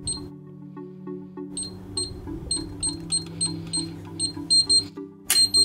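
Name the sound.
entering code on electronic safe lock keypad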